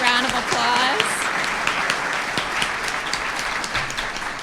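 A conference crowd at a Central Florida workforce event breaks into applause after a panel, a strong burst of clapping that runs steadily, with a brief voice heard at the start.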